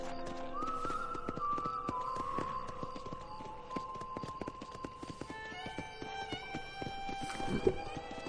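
Horse hooves clop at a steady walking rhythm in the Red Dead Redemption video game, a continuous run of hoofbeats over background game music and ambience, with no one speaking.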